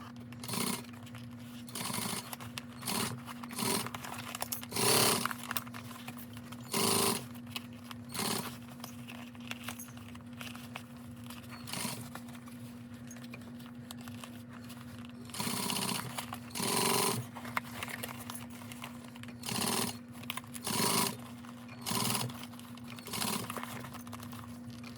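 A sewing machine stitches a quarter-inch seam around curves in fabric, running in short, fairly faint bursts separated by pauses, with a low steady hum underneath.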